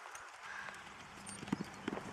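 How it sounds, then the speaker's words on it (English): A horse in a video game walks away with soft, fairly distant clip-clop hoofbeats in a light rhythm against low background noise. "My horse is walking away."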